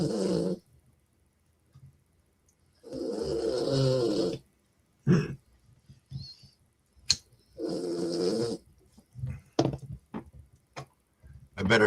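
A person snores in two long, rasping breaths separated by quiet pauses scattered with small clicks and knocks, close and moderately loud.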